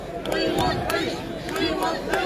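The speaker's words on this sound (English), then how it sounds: "the crowd is chanting, "We want peace."" A protest crowd gathered at a shrine in Melbourne chants steadily, a rhythmic mass of voices with repeated pulses rising and falling across the moment, dense and fairly close.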